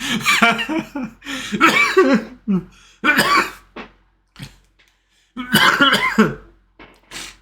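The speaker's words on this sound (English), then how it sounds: "I'm sick and coughing" A sick person gives a few harsh coughs and throat-clearing bursts, close and fairly loud, broken up by short pauses, with a little laughter mixed in.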